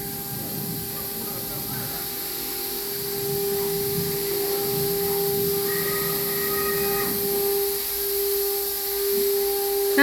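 A JX1830 auto-feeding laser cutter with projector runs a cutting job, giving a steady hiss with constant tonal hums and a brief higher whine midway, continuous and moderately near with no talk.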